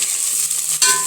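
Sliced onions frying in hot oil for a North Karnataka-style brinjal gojju curry, a steady close sizzle with a brief stir or clatter near the end, no voices.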